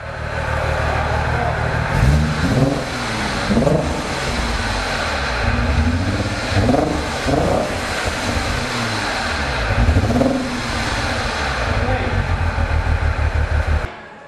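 A Suzuki car's newly fitted engine runs steadily with a low rumbling drone and a few revs rising and falling, while people talk over it throughout.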